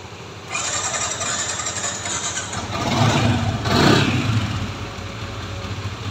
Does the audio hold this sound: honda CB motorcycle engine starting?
yes